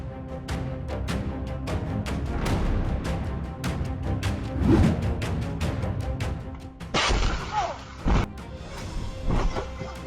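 Car crash: repeated sharp smashing impacts and thuds over a rough roaring background, ending with a bright crunching burst and a few final heavy hits.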